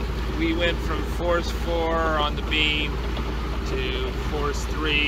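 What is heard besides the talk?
boat engine motoring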